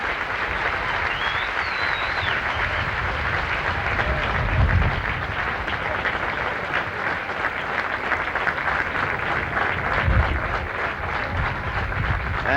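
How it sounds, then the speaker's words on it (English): Golf spectators at the 1979 US Open applaud Jack Nicklaus as he walks to the scorer's tent, a broad, steady outdoor clapping from a large gallery at moderate distance, continuous with slight swells. "they're applauding him all the way to the scorer's tent"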